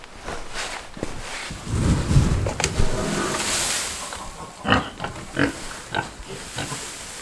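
Pigs in a barn grunt and snort at close range, with rough low grunts in short bursts among rustling hay bedding.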